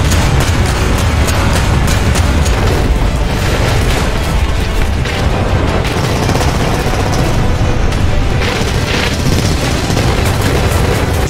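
Modern self-propelled anti-aircraft guns firing at high rate on World War II tanks in War Thunder, a dense, unbroken barrage of loud rapid blasts and booms filling the whole stretch without pause.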